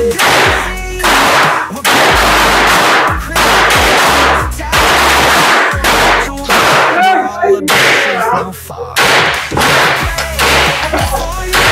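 Guns fire at an outdoor shooting range during a range day. Loud, sharp shots come one after another with short gaps, and each shot rings out with a long echo.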